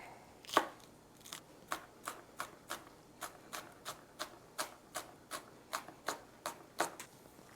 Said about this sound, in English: We're going to dice this up.